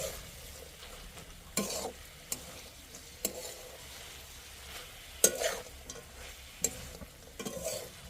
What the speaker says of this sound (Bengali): এভাবে কিছুক্ষণ নাড়াচাড়া করতে হবে।